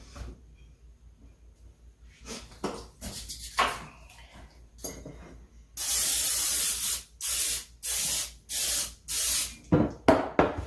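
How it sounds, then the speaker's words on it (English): Cooking spray hisses from an aerosol can into glass bread pans in a kitchen, first in a few short bursts and then in a run of louder, rhythmic sprays about a second long each, close to the microphone. "I'm going to spray them with some cooking spray."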